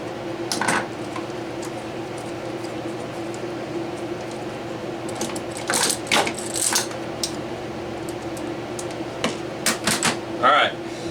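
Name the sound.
removing screws from the back of a primer alarm round counter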